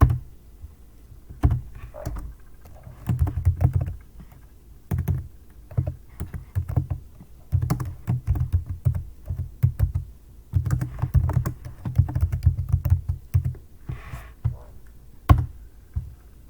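Typing on a computer keyboard, text being entered into a text box: steady bursts of close, clacking keystrokes with short pauses between runs, fairly loud and with no talking.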